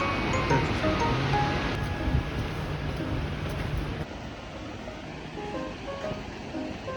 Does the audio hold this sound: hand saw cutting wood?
no